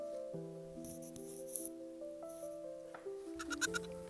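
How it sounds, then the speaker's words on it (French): A goat bleats softly in a quiet outdoor setting, with a few thin wavering cries against steady background tones. "derrière mon jardin, il y a des chèvres"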